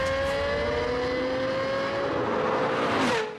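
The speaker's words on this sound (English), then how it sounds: "And the sound of this high-revving engine is unmistakable." Lexus LFA with its high-revving engine, a loud, sustained rising engine wail that holds steady before a sharp drop-off at the end, with no speech.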